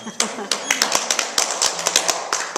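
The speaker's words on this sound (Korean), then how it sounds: "우리 우선 환영하는 박수를 하는" A church gathering gives welcoming applause, a sparse scattering of distinct claps from a small group, sounding close and uneven under an ongoing murmur of voices.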